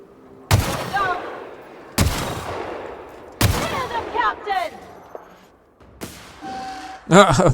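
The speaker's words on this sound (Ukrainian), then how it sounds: "Вони просто бігають і стріляють, вони навіть не зупиняються." Enemies fire guns in the video game The Outer Worlds, with four loud, sharp shots spaced a second or two apart, each trailing off into echo, and a player talking between the blasts.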